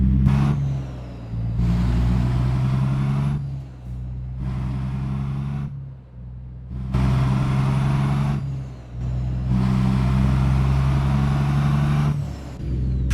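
Caterpillar C15 ACERT diesel truck engine in American Truck Simulator, loud and close, rumbling in repeated surges as it revs up through gears with brief drops between pulls, no talk over it.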